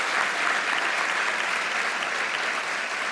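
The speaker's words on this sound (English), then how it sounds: "it's just for an applause break" An audience at the White House Correspondents' Dinner applauds steadily, with dense, continuous clapping from a large room that holds at an even level throughout.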